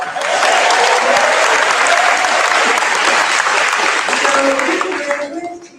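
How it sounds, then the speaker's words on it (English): Audience applause at a graduation commencement ceremony, a loud, dense, sustained clapping from a large crowd that carries steadily before tapering off near the end. "Why don't you give a big applause?"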